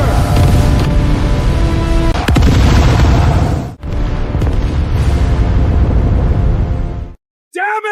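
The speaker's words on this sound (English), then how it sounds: "What terrifying firepower is this? Charge forward through the bombardment!" Heavy artillery and magic bombardment explosions in an animated fantasy battle with goblin armies, a dense, continuous roar of booms and blasts that cuts off abruptly near the end.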